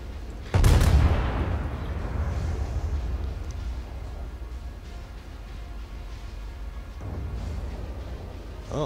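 Battleship main guns fire in a naval warfare game, one sharp loud boom followed by a long rolling rumble, then a second softer blast a few seconds later.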